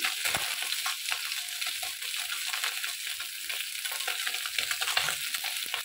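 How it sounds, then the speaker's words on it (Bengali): Dense, steady sizzling of fish frying in hot oil, crackling continuously close by with small pops and no voices. "বাদ বাকি মাছগুলো আমি এইভাবেই ভেজে নেবো"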